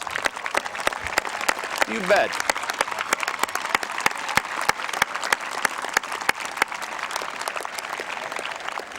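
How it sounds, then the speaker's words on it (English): An audience at a high school graduation ceremony claps in sustained applause with distinct individual claps; a voice briefly speaks partway through. "Yeah, let's have a round of applause."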